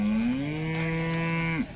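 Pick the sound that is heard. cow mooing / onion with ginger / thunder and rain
cow mooing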